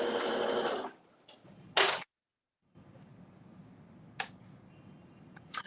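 Sewing machine stitching fabric for a ruffled kaftan, a short close whirring burst followed by faint clicks and quiet handling.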